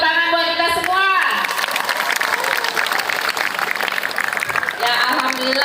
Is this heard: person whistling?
no